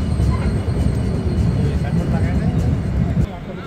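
A train pulls into Bhanga Junction at the end of its run, a loud continuous rumble of wheels and carriages filling the clip, easing slightly near the end.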